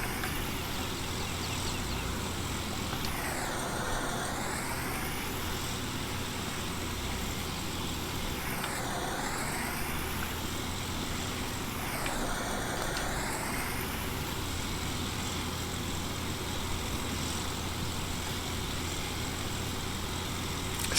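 Steady tractor engine drone from Farming Simulator 19, working snow-covered ground, running continuously at even volume with periodic rising-and-falling whine sweeps repeating every few seconds.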